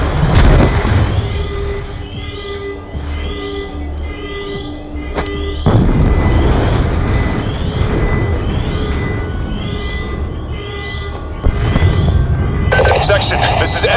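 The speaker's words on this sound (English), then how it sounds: "We're monitoring multiple explosions across the facility." Explosions in the Call of Duty Black Ops II game rumble and thump loudly through a dense battle mix with ringing alarm tones and sharp bursts, as voices talk over the din.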